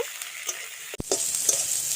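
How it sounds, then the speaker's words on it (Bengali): Onion, garlic and tomato fry in oil with bay leaf, dried chillies, whole garam masala and cumin, a steady close sizzle with a spoon stirring through it and one sharp knock near the middle. "পেঁয়াজ রসুনটা ভাজা ভাজা হয়ে গেছে"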